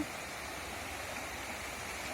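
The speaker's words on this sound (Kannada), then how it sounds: "ಇದು ಸುಮಾರು ಒಂದು 20 ಕಿಲೋಮೀಟರಿಂದ ನೀರು ಹರ್ಕೊಂಡ್ಬರುತ್ತೆ" Stream water flowing near Guruvinahalli village in Kundagol taluk, a continuous broadband rushing and gurgling that holds steady throughout without any voices.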